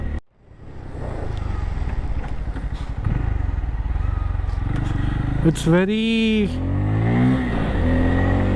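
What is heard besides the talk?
Bajaj Pulsar 250N motorcycle engine while riding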